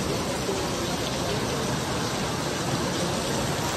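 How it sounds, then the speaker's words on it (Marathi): Heavy, steady downpour on the day of Ghatasthapana in Manwath, a dense continuous hiss of rain filling the whole stretch at an even level, with no voices and no letup. "एवढा खतरनाक पाऊस आज पडायला नव्हता पाहिजे, थोडा कमी पडायला पाहिजे"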